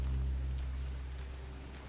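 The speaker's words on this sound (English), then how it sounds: "Here comes the rain." Steady rain falls in the video game Resident Evil Revelations 2, a soft continuous hiss over a low rumbling background, faint and without talk.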